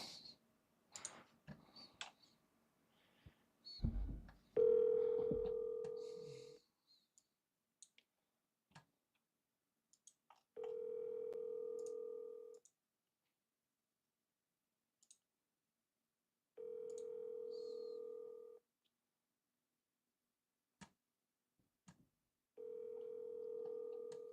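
Telephone ringback tone heard while calling a house owner: a steady electronic tone repeats in about two-second pulses separated by roughly four-second silences, clear and close, following some faint handling clicks, with no talking.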